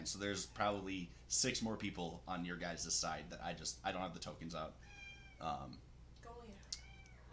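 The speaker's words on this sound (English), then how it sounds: "sorry about the meowing cats" Cats meow repeatedly in the background while a person talks steadily through a tabletop role-playing game session, the meows rising clearly above the voice near the end.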